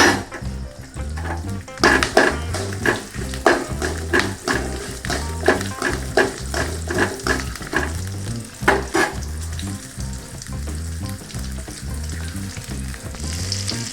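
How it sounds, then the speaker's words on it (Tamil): Onion and garlic sautéing in a pan while making horse gram chutney: a loud continuous sizzle with rapid rhythmic stirring and scraping strokes throughout, close up. "வெங்காயம் பூண்டையும் சேர்த்துக்கலாம் கொஞ்சம் வதங்கிட்டு"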